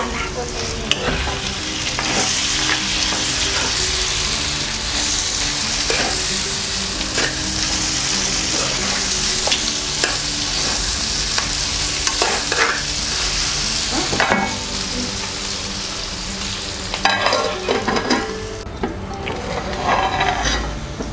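Onions frying in a pan for Andhra-style fish soup, a steady loud sizzle with frequent scraping stir strokes and clinks throughout, alone without talk.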